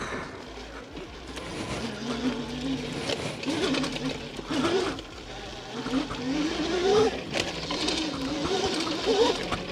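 A KOOZ electric dirt bike ridden up a dirt trail, its motor whine rising and falling in pitch as the rider works the throttle, with outdoor wind and rustle throughout and voices nearby.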